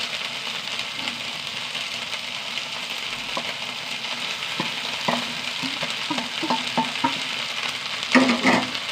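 Crushed cumin, pepper, dried chili and dal paste being stirred and fried for a curry, a steady close sizzle with intermittent spoon scrapes and clinks against the pan, busier toward the end.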